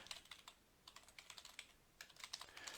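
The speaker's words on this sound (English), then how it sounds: "I guess I can type it in here." Fingers tap quickly on a computer keyboard in quiet, uneven clusters of clicks with short pauses between them, close by and alone during a Facebook Live stream.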